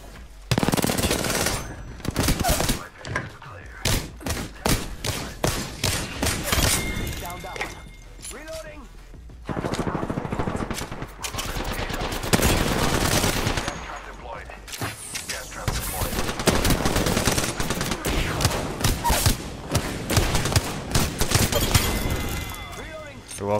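Gunfire in the shooter game Apex Legends, loud rapid automatic bursts and single cracks coming in dense volleys with short gaps, close and continuous, mixed with game effects.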